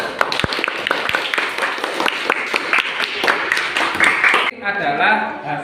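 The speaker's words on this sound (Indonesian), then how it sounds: "Tepuk tangan dulu anak-anak" Children in a classroom clap their hands together after a group presentation, a steady burst of close, sharp claps running for several seconds before stopping, with a voice heard briefly at the end.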